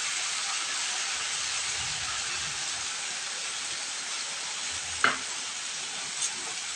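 Spice mix hits a hot pan of ridge gourd and poppy seed paste, giving a steady loud broadband sizzle throughout, with a single sharp utensil knock near the end and a fainter tap after it.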